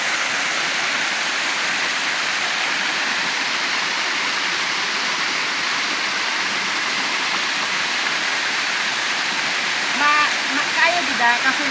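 Libtong Falls waterfall roars as a dense, constant wash of falling water, loud and unbroken throughout, with a voice briefly heard near the end.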